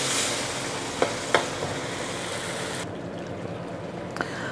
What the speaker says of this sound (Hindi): इसको हम अभी कर लेते हैं 4 से 5 मिनट तक आलूओं को फ्राई।